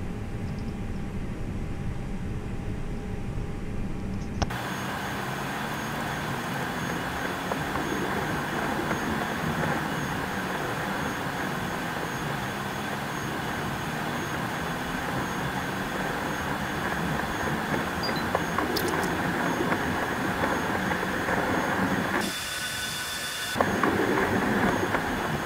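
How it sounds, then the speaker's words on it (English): An airliner taxis toward runway 30 at Washington Dulles in Microsoft Flight Simulator 2020. Its jet engines keep up a steady, broad whine and rumble, with a few brief shifts in tone near the end, and no voices. "Taxi lights coming on. And we are on our way to runway 30."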